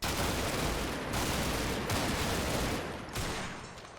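Sustained video-game gunfire from a fire-team battle against Italian forces, a dense continuous fusillade of overlapping shots and bursts that stays loud throughout and thins slightly near the end, with no talking.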